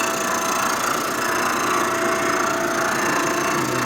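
A cutter removes metal unevenly from a part during the rebuild of a 1946 84ci stroker Knucklehead engine, giving a loud, continuous grinding hiss that fills the whole stretch with no voices over it.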